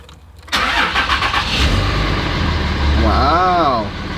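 A Cummins diesel truck engine cranks and fires up after a brief quiet moment, settling into a loud, rough idle close by while a person talks over it.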